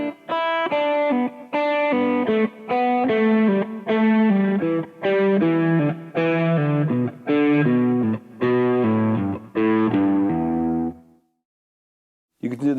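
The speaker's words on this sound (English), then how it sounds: "If you play the scale descending in 3s using pull-offs, it would sound like this." An electric guitar with distortion plays a descending scale in groups of three notes using pull-offs, steady, evenly spaced clusters of notes, close and loud, then fading to silence at the end.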